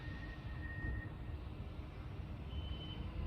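Faint, high electronic beeps drift over a steady low rumble of distant heavy machinery, like a construction vehicle reversing somewhere off in the distance.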